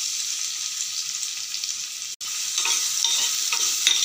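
Onions hit about three spoons of hot oil for a prawn gravy and sizzle steadily, with scraping stirs and a brief break partway, then more frequent spoon strokes against the pan.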